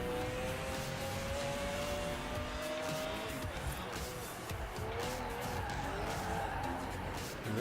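A McLaren F1 driven hard in Forza Horizon 4, engine roaring with long, loud tire squeals and skidding, the screech sustained over a few seconds under steady car noise.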